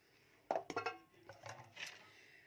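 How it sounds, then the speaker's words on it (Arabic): Metal kitchenware clatters as a baking tray for a cauliflower dish is fetched: a sharp bang followed by several quick clinks and rattles, then softer scraping, close and fairly loud against a quiet room. "هبدأ بقى اجيب صينيه"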